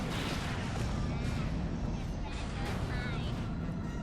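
Bombing run on an ion cannon in the Star Wars: Empire at War game, a dense rumble of explosions and artillery-like booms rolling continuously, with faint voices mixed in.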